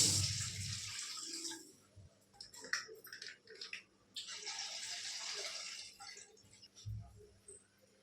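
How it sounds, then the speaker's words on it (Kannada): Water poured into a cooking pan in a home kitchen, a rushing splash in two broad bursts with short breaks and clinks between them, close and fairly loud, with no talking. "ನೋಡಿ, ಒಂದು 3/4 ಗ್ಲಾಸ್ ಆಗುವಷ್ಟು ನೀರು ಹಾಕ್ಕೊತೀನಿ."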